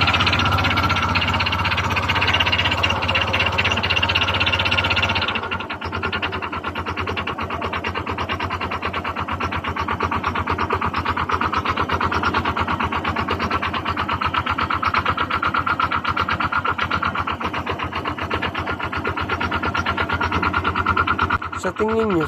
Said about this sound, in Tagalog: pakinggan nyo kung anong tunog meron ang kanyang makina